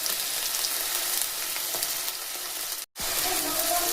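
Onion, green chilli, cumin and half a tomato fry in a pan for a jackfruit curry, making a dense, steady sizzle. It cuts out briefly near the end, then resumes with a faint clink.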